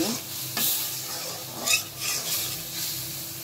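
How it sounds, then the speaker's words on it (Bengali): Spice paste sautéing in a pan for a Bengali fish and drumstick curry, with a soft steady sizzle and several scraping stirs of a spoon against the pan, close and moderately loud, no talking. "মশলাটা আমি ভালোভাবে কষিয়ে নিচ্ছি"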